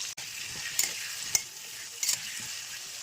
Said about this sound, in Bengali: একটা বড় সাইজের আলু ভাজতে দিয়েছি।